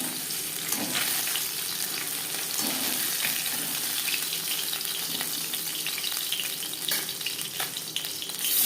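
Small sarputi fish fry in a modest amount of oil, giving a steady, moderately quiet sizzle that runs continuously with occasional faint clinks and splashes, no voices over it.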